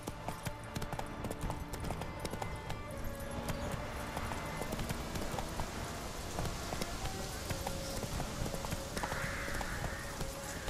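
Hooves of Roach, a horse in The Witcher 3, clip-clop in a steady galloping rhythm close by, continuous over game music and ambience, with brief talk present.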